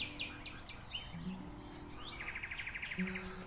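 Small birds chirp and tweet in short bursts, including a quick trilling series, over a steady low background hum.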